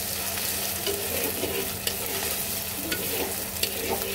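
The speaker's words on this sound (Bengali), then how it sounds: "দিয়ে দেব 5 ফোড়ন, দিয়ে দেব গ্রেট করা আদা। সব কিছু একটু সুন্দর করে হালকা ভেজে নেব।" Dry chilli, bay leaves, panch phoron and grated ginger frying in oil: a steady, close sizzle with occasional scraping stir clicks, alone and without talk.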